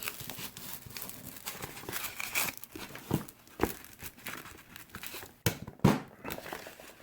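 Sandpaper being folded over into a small stapled sanding pouch for sharpening art charcoal or drawing pencils, giving soft crinkling and rustling with a few sharper crackles and snaps, close and quiet.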